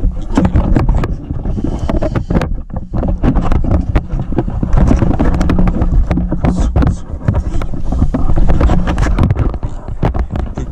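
A diesel engine cranking and catching just after a fuel filter change: steady dense rumbling roar close to the microphone, continuous throughout without pauses or speech.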